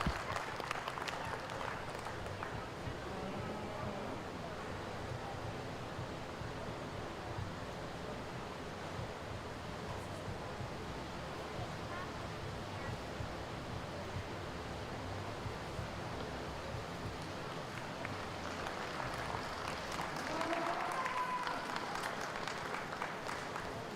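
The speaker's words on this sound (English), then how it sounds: "Give these guys a nice round of applause." Sustained applause from a crowd at a 4-H junior cattle show, a steady wash of clapping running through the whole stretch and swelling slightly near the end, with faint voices mixed in.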